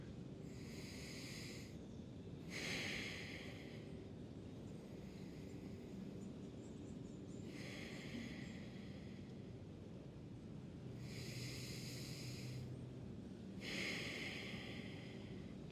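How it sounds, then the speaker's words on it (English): Slow, deep yoga breathing, heard as soft, airy whooshes, each lasting a second or two and returning every few seconds, quiet and close with near silence in between. "Two more breaths."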